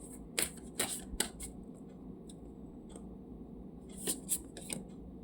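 Oracle cards are shuffled in quick crisp bursts, a few riffles and flicks close by, with a quiet pause between two clusters and a soft background hum.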